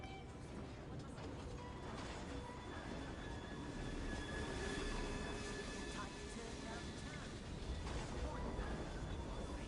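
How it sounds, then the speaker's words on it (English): Steady rumble of a train ride in the Victorian London of Assassin's Creed Syndicate, with continuous rolling rail noise, faint wheel squeals and clatter throughout, and voices talking over it. "Isn't traveling by rail thrilling? Just look out the window."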